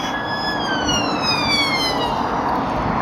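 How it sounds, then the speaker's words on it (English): An ambulance siren wails loudly with long falling tones, its pitch sliding downward as it passes close by over steady traffic rumble. "It's not the police, it's the ambulance."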